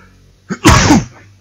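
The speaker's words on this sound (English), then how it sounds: "Sorry, I'm holding a sneeze right now." A single loud sneeze bursts out after a brief inhale, close to the mic, with quiet background before and after, during DOOM (2016) gameplay.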